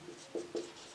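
A pen scratches on paper in a few short, quiet strokes during a maths exercise, close up and faint, with no talking.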